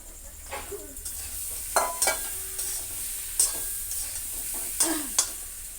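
Fried fish heads land in a sizzling potato curry (aloo dum), giving a steady hiss with several sharp scraping stirs and spoon knocks spaced through the clip, close and moderately loud, no talking.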